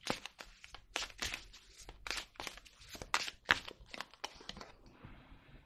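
A deck of crystal tarot cards is handled up close, a series of sharp papery rustles, snaps and shuffles that come in quick irregular bursts, then fade to quiet.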